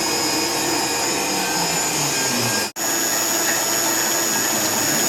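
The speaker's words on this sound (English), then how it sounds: "I finally got this sprocket cutting" A CNC milling machine cuts a sprocket, giving a loud, continuous whining drone with steady tones, broken by one abrupt momentary dropout before it resumes unchanged.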